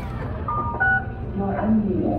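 Telephone keypad tones dialing into a conference call, a few short beeps in quick succession, clear and close, with a murmur of voices underneath.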